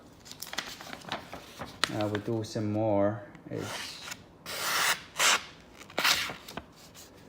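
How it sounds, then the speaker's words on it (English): A Yaxell Super Gou chef knife blade rasps through paper in several short, gritty scraping strokes, close up, after someone briefly speaks. "So you can hear a significantly more amount of noise when you cut the paper."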